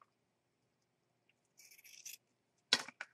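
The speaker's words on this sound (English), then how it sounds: "Getting my fabric scissors out." Fabric scissors cut through cloth for a paper-sack envelope pocket craft, a short run of crisp snips followed by a couple of louder sharp cuts in an otherwise quiet room.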